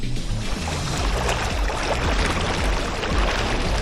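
A BYD Yangwang U8 turns around in water on throttle alone, giving a continuous loud churning and sloshing of water with a low rumble underneath.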